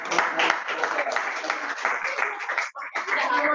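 An audience at a business coaching session on distribution strategy claps together in a continuous, moderately loud burst. Voices mingle with it, and a brief dip near the end breaks the applause before it resumes.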